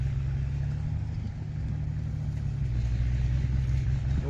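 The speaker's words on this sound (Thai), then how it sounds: "นู่นครับรถอ้อยตัดเร่งเครื่องเลยครับ" A sugarcane harvester revs its engine in a thick cane field, a steady, moderately distant low rumble and drone that swells slightly toward the end, with no voices.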